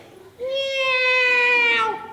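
A voice imitates a cat's meow, one long, drawn-out, high-pitched cry that rises and holds before trailing off.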